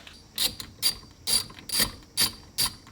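A ratchet tool clicks in six short, sharp bursts while loosening a fastener inside a BMW F10 during an audio amplifier install, close and distinct with no talking.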